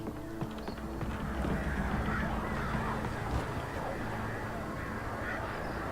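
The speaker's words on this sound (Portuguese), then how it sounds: "Barulho de corvos, mano." Crows caw in Alan Wake Remastered amid a dense, steady game ambience, harsh calls rising now and then over a continuous wash of background noise.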